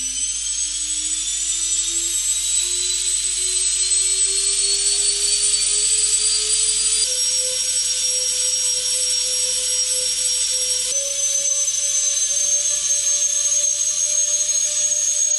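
A DIY tip-jet helicopter rotor driven by electric ducted fans on a test run gives a loud, steady whine that climbs in pitch and then steps up twice more, holding level between steps.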